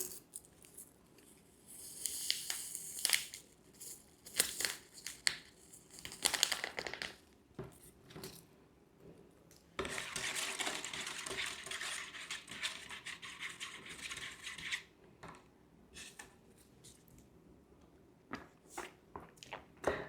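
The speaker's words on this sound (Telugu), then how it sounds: "షుగర్ ప్యాకేజ్ తెచ్చుకున్నాను. షుగర్ యాడ్ చేసి ట్రై చేద్దాం." A paper sugar packet is torn open and sugar poured into a cup of Starbucks Americano coffee, heard as close, sharp crinkling and rustling bursts with quiet pauses between them.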